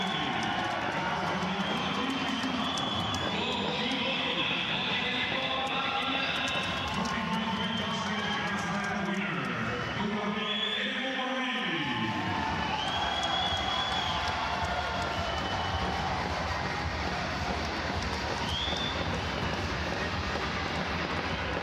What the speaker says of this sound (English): most of the crowd were shouting for Emomalī there from Tajikistan